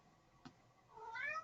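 A cat meows once near the end, a clear rising-and-falling cry after a brief faint tap, otherwise quiet.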